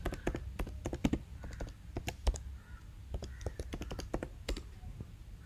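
Someone types a command on a computer keyboard in quick, irregular runs of crisp key clicks that continue steadily throughout.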